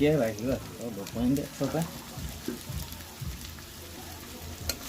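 Carrots and long beans fry in a pan, a soft continuous sizzle running beneath a woman's speech in the opening seconds, then going on alone with faint stirring clicks.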